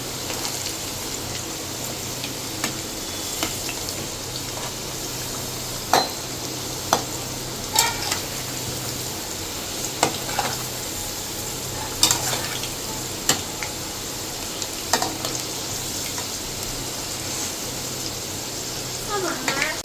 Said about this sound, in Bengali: আলুগুলো ভাজা হচ্ছে